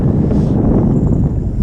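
Steady wind roars across a sailboat at sea on a crossing off Sicily toward Bova, Italy, a constant low rumble of microphone buffeting with no voices.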